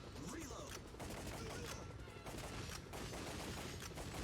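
Rapid gunfire in the arcade shooter Time Crisis, aimed at military hardware: dense, loud shots run back to back over a noisy game soundtrack, with a voice heard in places.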